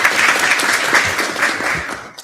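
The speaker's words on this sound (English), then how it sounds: "clap it up." Steady applause from a student government senate session, a dense burst of many hands clapping at close range that tapers off at the end.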